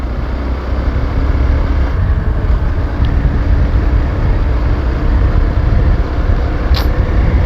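A vehicle drives smoothly along, a steady, even broadband road and engine rumble that holds at one level for the whole stretch with no voices.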